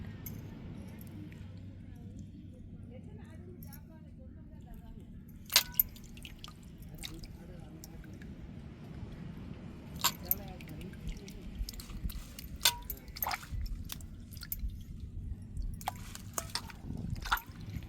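Broken crab pieces cleaned by hand for a tamarind-brinjal crab fry, giving wet dripping, squishing and small clicking sounds close by, with sharper cracks toward the end over a steady low background hum.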